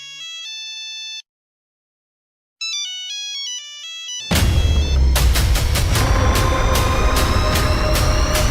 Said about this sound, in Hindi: तेरा फोन आ रहा, फोन उठा ले।